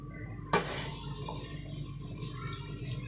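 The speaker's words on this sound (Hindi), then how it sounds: "यखनी में उबाल आ गया है, इसमें हम चावल डाल रहे हैं।" A sudden splash as rice drops into boiling chicken stock for pulao, followed by a steady bubbling, simmering rumble close by.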